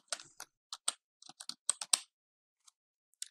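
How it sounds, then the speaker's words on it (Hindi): Quiet, close typing on a computer keyboard while entering text in video editing software: irregular bursts of light key clicks, some rapid clusters, then a pause and a few final taps. "इसके बाद टाइपिंग करनी है यहाँ से जैसे मैं राइट लिख देता हूँ"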